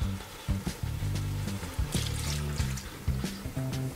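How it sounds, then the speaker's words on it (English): Half a cup of red wine pours into a pot of beef stew with potatoes, a soft liquid splash and burble with faint clinks, fairly quiet and with no voices. "we're gonna go ahead and add a half a cup of red wine"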